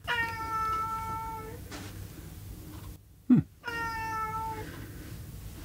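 A cat joins a home lesson with a few drawn-out, wavering meows close by, separated by a short pause and a soft bump, with quiet room tone between the calls.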